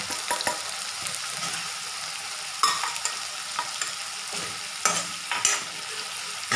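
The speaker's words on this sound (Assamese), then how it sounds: "এতিয়া আমি 3 মিনিটমান সময় এনেদৰে গেছটো কমাই লৈ ফ্ৰাই কৰি থাকিম" Ground cumin, coriander, black pepper and a little red chili powder fry in a pan over lowered gas for chicken malai masala, giving a continuous close sizzle punctuated by occasional spoon-scraping stirs.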